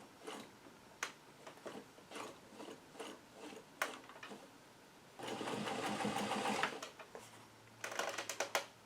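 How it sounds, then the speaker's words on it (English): A 50-plus-year-old sewing machine clicks a few times, then whirs in a quick burst stitching pants, pauses, and starts another short run, quiet and close. "not too bad for a 50-plus-year-old sewing machine"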